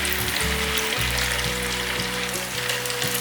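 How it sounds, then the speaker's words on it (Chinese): Tofu frying slowly in oil over medium-low heat, a steady close sizzle with soft bubbling crackles running throughout, no voices. "用中小火慢慢的炸"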